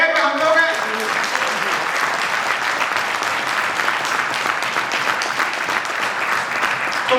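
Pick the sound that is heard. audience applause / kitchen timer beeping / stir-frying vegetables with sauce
audience applause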